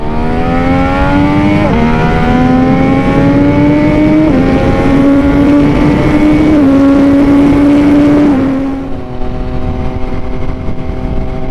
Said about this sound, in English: now that the braking service is done, I can open the bike up a little bit more